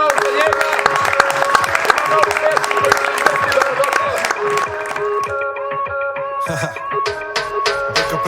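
A crowd applauds and cheers for a special guest joining a live music performance, dense clapping running throughout over a loud beat with sung or spoken vocals.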